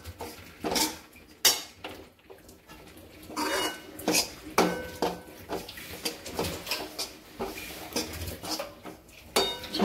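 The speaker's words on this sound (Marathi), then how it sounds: "आता याला छान मिक्स करून घ्यायचं आहे।" Metal spoon clatters and scrapes in a pan as spices are mixed into a capsicum curry with ambari masala, garam masala and red chilli powder, a steady run of close, uneven clinks and scrapes with no speech.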